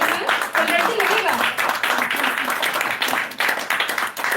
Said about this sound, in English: आपने भी clap करना है